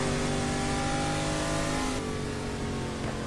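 Racing car engine in the game GT Legends revving hard with a quick blip of throttle while downshifting, a loud steady mechanical drone with layered harmonics that dips and shifts pitch partway through.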